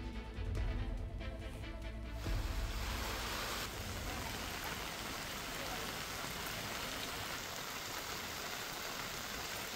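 Heavy overnight rain pours down steadily, a dense continuous hiss of drops on surfaces that stays loud from start to finish with no voices.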